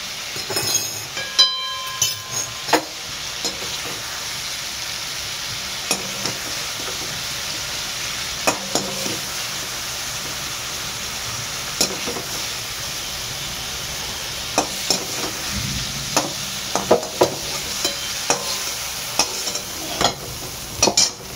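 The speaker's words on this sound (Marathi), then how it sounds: "आणि आता आपण हे बघा कसे असे भाजून घेतलेले आहेत, मस्तपैकी भाजून घेतलेले आहेत कांदा टमाटर" Onion and tomato roast in a pan for a paneer mushroom masala, a steady close sizzle broken by repeated scraping stirs of a spoon, with no talking.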